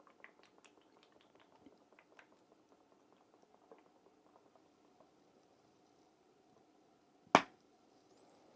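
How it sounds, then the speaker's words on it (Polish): Guinness Nitrosurge stout poured into a glass held at a 45-degree angle: a faint, steady fizzing and bubbling of liquid, then one sharp, loud click near the end. "nalewamy naszą szklanicę pod kątem 45 stopni i nalewamy"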